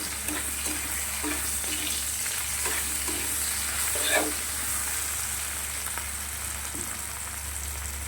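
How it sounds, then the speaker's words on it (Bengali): Onion and tomato fry in a pan with a steady close-up sizzle and crackle, punctuated by a few soft stirring scrapes, with no one speaking. "দেখো পেঁয়াজ আর টমেটোটা কিন্তু বেশ ভালো করে ভাজা হয়ে গেছে।"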